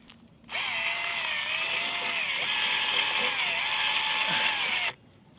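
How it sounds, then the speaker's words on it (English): A power drill whines steadily for several seconds at close range, its pitch wavering slightly as it bites into an aluminum boat surface, removing old 5200 sealant, then stops. "So I will drill, just so that I key up that surface, remove all the old 5200."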